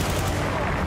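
A short, loud burst of gunfire from the video game Battlefield: Bad Company 2, with dense, continuous shooting and no clear gaps.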